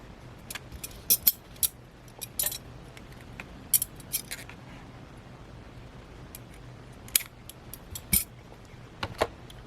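Scissors snip through cord in a series of short, crisp clicks spread over several seconds, close and fairly quiet, with no talking.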